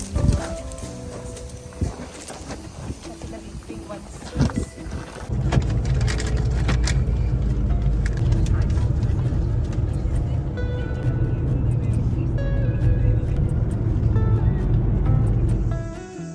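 A Renault car driving, with a steady, loud low road-and-engine rumble that starts about five seconds in and holds to the end, after quieter mixed sounds at the start.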